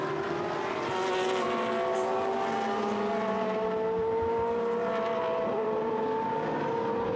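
Race cars in GT Sport racing at Algarve, several engines droning together with rising, shifting whines and gear changes, steady and moderately loud with no talking.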